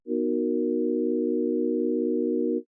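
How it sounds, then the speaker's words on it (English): A plain synthesizer sine wave tone holds steady and pure at one low-mid pitch for under three seconds, clean and loud with a soft start and stop, alone. "Start with a sine wave."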